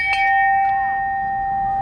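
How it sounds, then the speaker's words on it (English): A handheld bell used in a game of Among Us played in real life rings once, loud and close, its clear metallic tone ringing on and slowly fading with no talking. "You must make it back to headquarters and loudly ring this bell."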